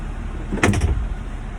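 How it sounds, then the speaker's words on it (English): A vehicle door thuds shut once, a short solid close standing out against steady background hum, with no talking. "the door will close"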